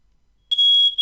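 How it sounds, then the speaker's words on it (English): A smoke alarm sounds in a home, one sustained, loud electronic tone cutting in abruptly halfway through after near silence and holding steady to the end. "that's my fire alarm."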